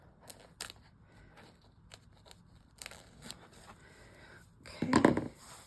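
Scissors snip and crunch through a notebook cover in scattered cuts, with soft paper rustling between them and a louder crinkling burst near the end. The cutting is close and fairly quiet.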